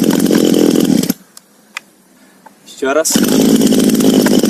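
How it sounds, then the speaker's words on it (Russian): A GoodLuck GL4500C gasoline chainsaw runs loud and close with a buzzing two-stroke drone, cuts out briefly to near silence with a short spoken phrase and faint clicks, then roars back to life. "Все, заводится легко."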